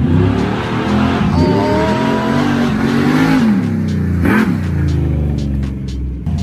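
A Jeep race car with a fuel cell under the vehicle is driven hard off-road, its engine roaring loud and close with rising and falling revs and brief tire noise, and no talk.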